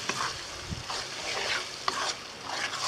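Grated raw mango pickle fries in hot oil in a pan, giving a steady close sizzle broken by a few scraping stirs of a spoon through the mixture.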